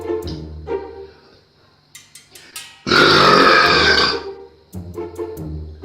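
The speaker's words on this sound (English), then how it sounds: "I hear that some Australian guy thinks he's beaten my world record with a burp of 110 decibels." A very loud, long burp bursts out and holds for over a second, set between shorter guttural grunts and clicks from a person in a competitive burping battle, close and dominant.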